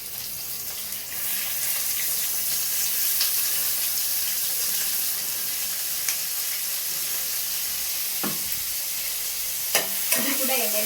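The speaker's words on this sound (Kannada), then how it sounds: "ಈಗ ಅದನ್ನ ಹಾಕೋಣ, ಫ್ರೈ ಮಾಡ್ಕೊಳ್ಳೋಣ ಚೆನ್ನಾಗಿ ಎಣ್ಣೆಯಲ್ಲಿ." Chopped tomatoes for mushroom biryani hit hot oil and settle into a loud, continuous frying hiss, with a few brief scrapes and clinks of stirring near the end and no talking.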